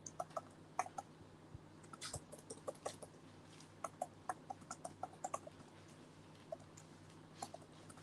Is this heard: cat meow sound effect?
no